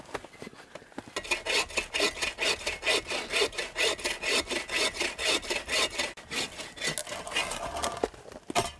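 Wood being hand-sawn at a winter camp, a steady rhythmic back-and-forth rasp of the blade through a thick log, close and loud, with a brief pause midway before the strokes resume.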